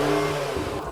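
A Lamborghini Revuelto engine revs loudly and close, its tone rising and growling with a throaty, aggressive roar.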